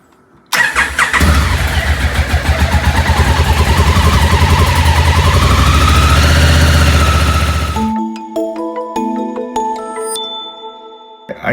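A Honda Africa Twin motorcycle engine cranks and fires up, then revs loudly and steadily for several seconds before cutting off, followed by a series of electronic beeps.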